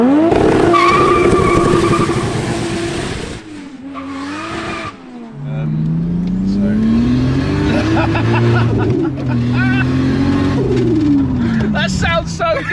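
A Ford Granada with a Toyota 2JZ Supra engine revs hard nearby, with rising and falling pitch and tire squeal, then roars again at high revs.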